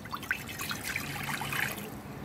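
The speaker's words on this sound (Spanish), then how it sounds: "Aquí ya tengo mi cacerola, no vamos a usar grasa, vamos a poner agua." Water is poured from close range into a saucepan for cooking mojarra fish, a steady splashing trickle with bubbly gurgles running throughout, with no one talking.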